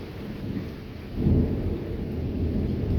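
An unexpected February thunderstorm at night, with deep rolling thunder swelling over steady rain noise, loud and close with no voices.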